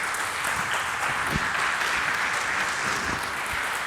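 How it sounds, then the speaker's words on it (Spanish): Church congregation applauding the Lord during a sermon, a sustained even wash of many hands clapping at moderate loudness, with no voices heard. "Denle el aplauso al Señor, Él se lo merece."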